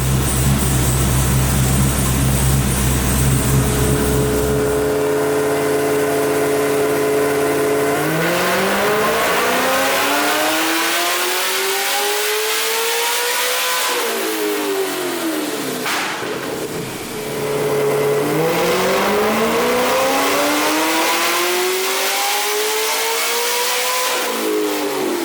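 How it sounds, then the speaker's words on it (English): Nissan GTS-R race car with side-exit exhaust pipes revving hard on a hub dyno, loud and close, with two long climbing engine pulls that rise in pitch, a brief lift between them, and a steady lower engine note at the start. "the car sounds awesome on the dyno. Side pipes, makes all the right noises."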